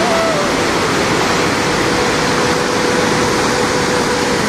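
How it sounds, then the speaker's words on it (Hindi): Water rushes loudly and steadily along a mountain stream between Tanakpur and Champawat after late monsoon rains, a dense continuous roar filling the whole span with no break. "आज इस वाले रूट पर ज़्यादा पानी आ रहा है"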